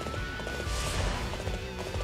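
Horse hooves clopping in Dynasty Warriors 8, a quick continuous patter of galloping steps, close and steady over a brief stretch with a faint tonal game sound beneath.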